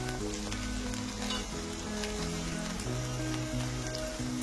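Okra (bhindi) cooking in a pan, a dense steady sizzle and crackle that holds evenly throughout, close and continuous with steady background tones beneath it.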